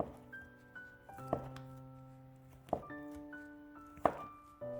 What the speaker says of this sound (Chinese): 再准备半块火腿肠，先给它切成薄片